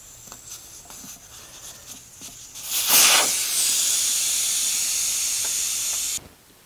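Air rushes out of a tire valve stem with the core removed, a loud steady hiss that starts abruptly, holds evenly for a few seconds, then cuts off sharply.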